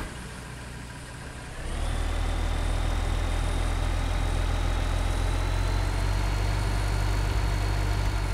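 A tractor engine in Farming Simulator 2015 revs up after a quieter start, then holds a loud, steady low drone with a slowly rising whine, running alone throughout.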